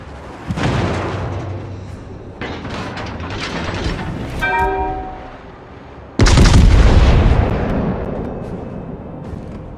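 Torpedo explosions strike the battleship Alsace in a naval video game, bringing heavy booming blasts and a loud impact burst near the end, with a ringing metallic tone in between and no talk.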